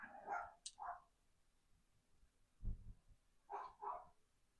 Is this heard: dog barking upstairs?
yes